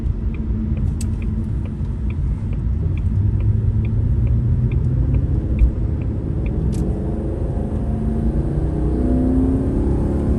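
A 1997 Jaguar XJ8 V8 sedan pulling away on the road, a deep steady engine rumble with rising road and tire roar heard from inside the car, continuous and fairly loud.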